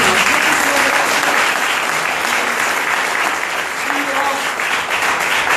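A crowd at a DXN business gathering in Sincelejo, Colombia claps loudly and steadily, a thick wall of applause that holds for several seconds with voices faintly mixed in.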